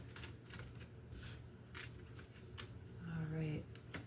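Tarot cards shuffled by hand, a soft papery riffling and shuffling that runs steadily through the moment, with a voice speaking briefly near the end.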